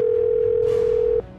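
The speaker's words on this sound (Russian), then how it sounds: "Странно, телефон работает, но он не берет. Я набрал еще раз." Phone ringback tone on an unanswered call, a single steady loud tone that cuts off after about a second.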